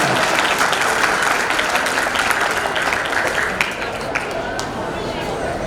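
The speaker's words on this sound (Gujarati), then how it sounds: "એકવાર પુનઃ જોરદાર તાળીઓથી એમનું અભિવાદન કરો" Loud, sustained applause from a crowd at a raas garba festival for disabled performers, a dense wash of clapping that stays steady throughout and eases slightly near the end.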